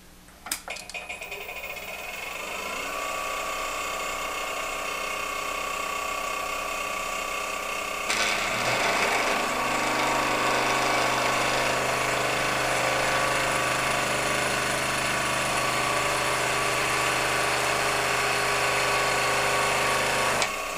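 A wood lathe spins steadily while a Sorby decorating cutter works the end grain, giving a continuous whirring, chattering mechanical tone that grows louder and harsher once the cutter engages.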